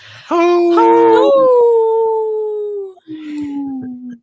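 Recorded wolf pack howling, played back on a radio broadcast: long, sustained, loud howls with several voices overlapping, sliding slowly downward, then a second drawn-out howl after a brief pause.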